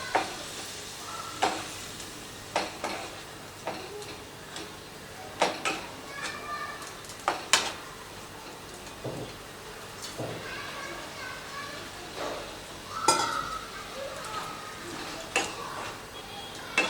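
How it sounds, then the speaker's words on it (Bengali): Egg gravy mashed with a masher in a pan, giving repeated clattering taps and scraping bursts amid a faint sizzle, with a voice talking over it. "এই ম্যাশারটা দিয়ে খুব ভালো করে সব কিছুকে ম্যাশ করে দিচ্ছি"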